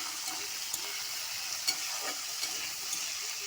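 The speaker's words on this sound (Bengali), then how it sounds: "ফুলকপিটা আর আলুটা ভালো করে ভেজে নিয়েছি" Cauliflower florets and potato pieces fry in a pan with turmeric and salt, a steady soft sizzle under occasional faint stirring scrapes, heard close but quiet and with nobody speaking.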